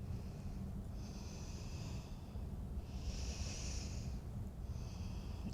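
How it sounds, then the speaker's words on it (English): Slow, audible breaths through the nose during a seated forward bend over the left knee in a desk yoga routine, three soft rhythmic exhalations close and alone in a quiet room. "Just breathing here."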